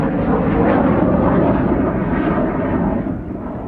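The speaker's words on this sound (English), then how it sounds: "These were just the workhorse Sukhoi 25s." A Sukhoi Su-25 ground-attack jet flying, a loud, steady roaring engine rumble that fills the air and fades slightly toward the end, with no voices.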